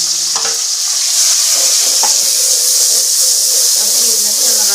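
Steady loud sizzling and hissing from a hot pan as tomatoes hit onions already fried brown, with a few stirring clinks and a voice speaking faintly underneath.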